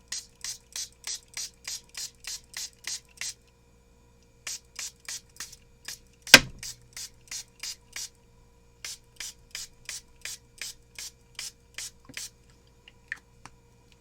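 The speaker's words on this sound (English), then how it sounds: "we're going to try to spray these with water now and see if anything happens" A hand-pump spray bottle mists water onto Tim Holtz Canson watercolor paper, giving short, crisp hissing bursts in steady rhythmic runs, repeated in several quick sequences with brief pauses between, close and fairly quiet.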